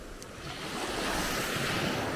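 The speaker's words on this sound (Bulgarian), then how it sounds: "Това е морето." Sea waves wash onto a beach in a steady broadband rush that swells slightly louder partway through, with some wind noise on the microphone and no talking.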